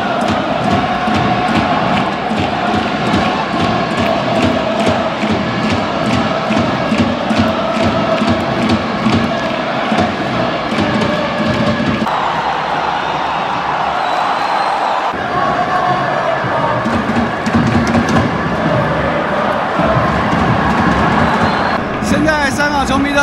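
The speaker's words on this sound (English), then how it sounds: "当比赛开球之后，他们又有一首应援歌唱了起来。" Hong Kong football fans at the 2023 Asian Cup match against Iran in Qatar sing a rhythmic cheering chant together, a loud massed chorus with pulsing beats and crowd roar running steadily throughout.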